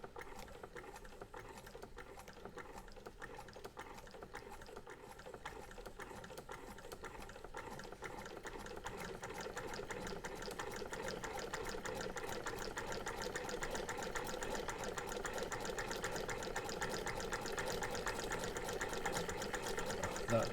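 A Singer 128 vintage treadle-style sewing machine runs steadily, its needle and shuttle chattering in a fast, even mechanical rhythm that grows slightly louder midway, close and continuous with no talk.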